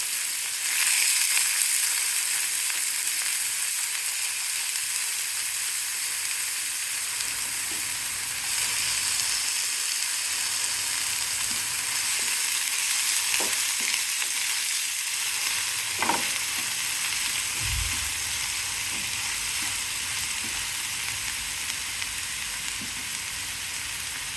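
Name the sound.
onions sizzling in hot oil tempering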